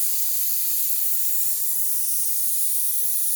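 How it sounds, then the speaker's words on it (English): Air compressor under a 2019 Ram 3500 Cummins setup releasing a steady, even hiss of escaping air, close and continuous throughout with no voices. "Let me shut off that air compressor"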